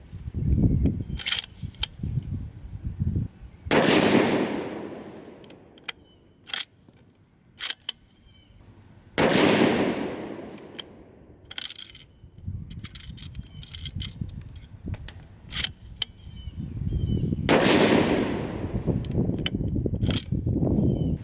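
Three sharp rifle reports from a Ruger M77 Mark II in .22-250 firing Nosler Varmagedon 55-grain flat base tipped ammunition, each followed by a long echoing tail, with bolt and handling clicks in between.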